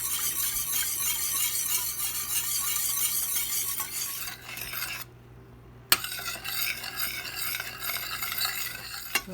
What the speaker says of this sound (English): So we're gonna mix this together, and we're gonna use it for the bread later.